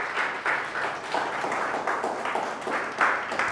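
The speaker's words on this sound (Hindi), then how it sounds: "आइए जोरदार ताली से खुदावन यीशु मसीह धन्यवाद करें" A church congregation claps loudly together in thanksgiving, a dense, steady wash of applause that swells in rhythmic waves for several seconds.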